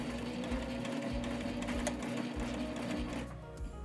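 A sewing machine backstitching to lock a stitch: a close, quiet whirring motor with rapid needle chatter in short bursts, briefly stopping and restarting as the direction changes.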